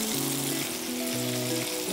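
Chicken cubes frying in a pan give a steady, loud sizzle that runs through the whole stretch, with sustained tonal sounds layered on top.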